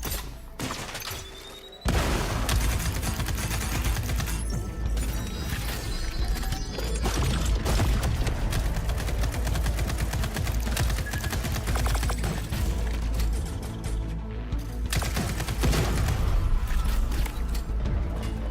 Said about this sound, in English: Let's toss a thruster grenade to deal massive damage.